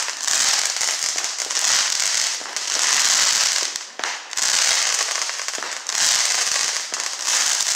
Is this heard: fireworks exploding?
yes